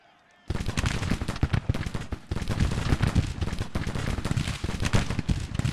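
Dense, crackling volleys of musket gunfire in the Civil War strategy game Grand Tactician: The Civil War, erupting suddenly after a short quiet and rolling on continuously with overlapping shots near and far.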